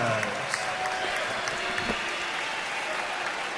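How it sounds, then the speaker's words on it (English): A boxing arena crowd applauds Antonio Diaz after his bout with Victor Ortiz, a steady wash of clapping and crowd noise that holds at an even, fairly loud level throughout. "How about a nice round of applause for the very game, Antonio Diaz."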